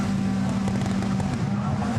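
A rallycross car at the 2017 World Rallycross round in Barcelona revs in place with a steady, loud engine drone and strong low hum, mixed with crowd and background noise.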